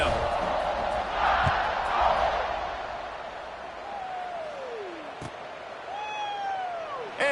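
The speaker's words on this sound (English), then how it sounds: "this crowd now ready to get behind them" A stadium crowd at an Alabama vs Clemson college football game roars in the fourth quarter as the teams set to kick off: a sustained, distant wash of cheering with scattered whistles.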